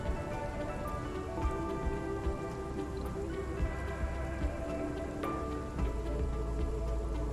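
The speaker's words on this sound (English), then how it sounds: "So we should get extra water because it's raining." Steady rain patters across surfaces in the Surviving Mars video game, a continuous even hiss with scattered small drop ticks throughout.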